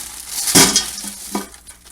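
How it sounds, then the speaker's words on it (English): Vegetable scraps such as onion peels, celery ends and bits of onion tumble into an 8-quart stock pot in one loud rustling dump, followed by a smaller second clatter of pieces settling. "I'm just going to go ahead and dump all of my vegetable scraps in there."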